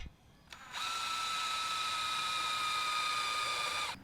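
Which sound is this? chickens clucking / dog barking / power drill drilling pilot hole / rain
power drill drilling pilot hole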